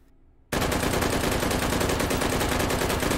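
A simulated H&K G36C carbine fires 5.56×45 rounds in rapid succession inside the H3VR game, a sudden loud burst of closely spaced shots that starts after a brief quiet and continues without pause.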